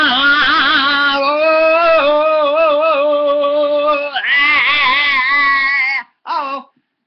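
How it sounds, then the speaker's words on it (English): A frightened cat meows loudly and continuously in a drawn-out, wavering yowl close to the listener, then stops briefly and gives one short final meow. "Oh, Peepy the cat's a little bit scared."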